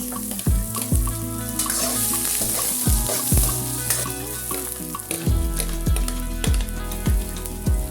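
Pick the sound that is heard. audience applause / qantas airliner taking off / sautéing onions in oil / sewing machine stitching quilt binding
sautéing onions in oil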